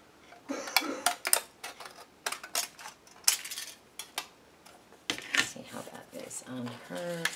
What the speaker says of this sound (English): And these are just regular kitchen scissors,